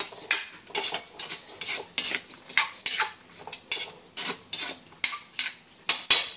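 Metal utensil scraping and clanking in a pan as vegetables are stirred with oyster sauce, a steady run of about a dozen sharp, close strokes with short pauses between, no voices.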